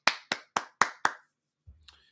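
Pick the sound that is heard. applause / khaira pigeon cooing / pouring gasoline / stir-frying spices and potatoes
applause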